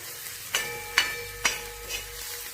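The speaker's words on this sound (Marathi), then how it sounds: "तेल टाकायचं. तेल टाकल्यानंतर व्यवस्थित असं परतून घ्यायचं." Onions sautéing in oil in a pan: a soft sizzle beneath four evenly spaced spatula strokes scraping and clinking against the metal, close and fairly quiet.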